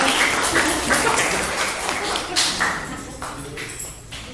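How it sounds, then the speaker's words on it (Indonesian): An audience at a school teacher-training session claps together, a dense crackle of hands that fades gradually over several seconds. "Kasih tepuk tangan dulu dong"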